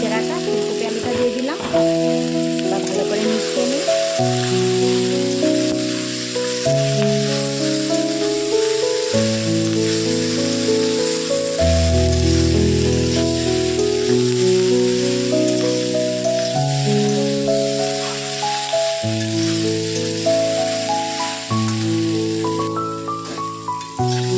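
Vegetables sizzle and fry in hot oil in a pan after soaked cauliflower and potato are added, a loud, dense crackle running steadily throughout with occasional stirring, no one talking over it.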